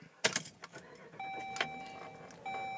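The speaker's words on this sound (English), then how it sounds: "Key back in the ignition." Keys jangle as a car key goes back into the ignition of a 2012 Jeep Cherokee, a quick metallic rattle followed by a steady electronic chime tone repeating inside the quiet cabin.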